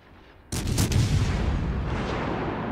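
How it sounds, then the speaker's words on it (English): Main guns on the Amalfi cruiser in World of Warships: Legends fire in a sudden loud boom after a quiet lead-in, then a heavy rumbling roar that lingers and slowly fades. "So as soon as I fire, watch how many people target me."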